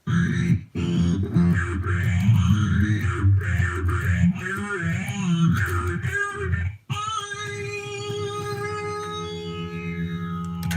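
An instrument played through a distortion pedal gives a loud, continuous stream of thick, buzzing sustained notes with a brief dropout early on. After a sharp break, ringing tones bend and slide.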